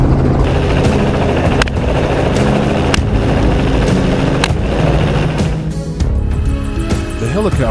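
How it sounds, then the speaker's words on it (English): Helicopter flying over open farmland during a wild boar hunt, a loud continuous rotor and engine roar under sharp intermittent bangs that sound like gunfire, with a voice speaking over it. "The helicopter swiftly turned toward a vast open field."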